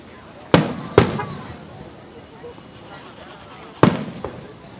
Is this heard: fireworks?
yes